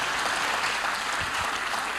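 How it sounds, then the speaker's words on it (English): Brief, dense applause from a summit audience for a panel, a steady wash of many hands clapping together at moderate loudness, without pause. "please give them a round of applause."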